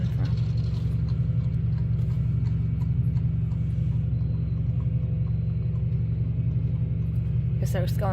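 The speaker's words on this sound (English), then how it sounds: "I hear horse hoofs." Horse hooves clip-clop steadily and rhythmically through the whole stretch, mixed with a low vehicle-like rumble, and a sharper clatter comes near the end.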